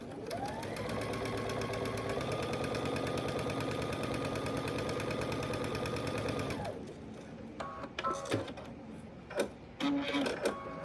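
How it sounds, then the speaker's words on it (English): A sewing machine runs a steady, continuous 1/4-inch seam along the side of a quilt block for about six seconds, then stops, leaving a few light clicks and handling sounds of fabric being adjusted. "I'm going to sew down this side at 1/4 inch."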